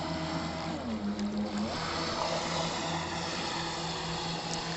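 Radio-controlled PBR patrol boat model driven by Graupner hydrojets, a steady faint whirring drone with a brief rising whine, running alone on the water at a model boat show.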